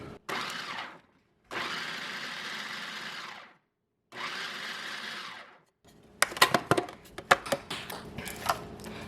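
A food processor pulses about three chopped onions in bursts: two short whirs, a longer run and another burst with clear gaps between, then rattling and clattering from the bowl and blade afterward.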